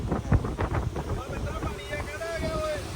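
A strong storm wind gusts and buffets the microphone, roaring outdoors and turning the daytime dark, while a voice speaks briefly over it.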